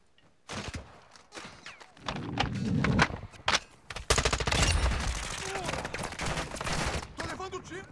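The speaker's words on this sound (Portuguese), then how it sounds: "Tô levando o tiro." Rapid bursts of automatic gunfire and impacts fill a Warzone 2.0 DMZ match, loud and dense, with clattering thuds and brief voice sounds between volleys.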